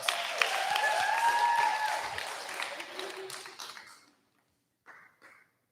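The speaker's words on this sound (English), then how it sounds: "Let's give them a round of applause" At a senior thesis event at Logos Academy, an audience applauds the panelists with a fairly quiet patter of clapping mixed with a few tonal sounds, fading out after about four seconds, then a short faint burst near the end.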